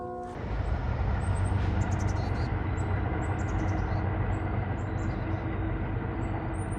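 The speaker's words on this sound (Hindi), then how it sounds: "ये गया ट्रेन है ना।" A train rolls past on the railway beside the Breakneck Ridge trail in New York, a loud, steady roar and rumble that swells in quickly and holds, with faint bird chirps above it.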